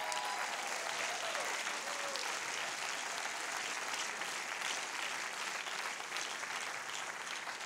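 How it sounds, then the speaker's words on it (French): Audience applause at a film festival opening ceremony, a sustained even patter of many hands heard from a little distance, fairly soft and unbroken throughout. "Mesdames et messieurs, applaudissements pour Edna Eppelbaum"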